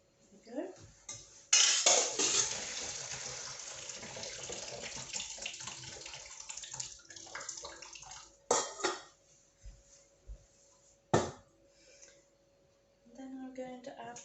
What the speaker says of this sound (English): I'm going to drain my pasta with a colander over the sink